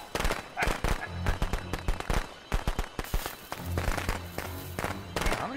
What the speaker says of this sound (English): How many fireworks you got?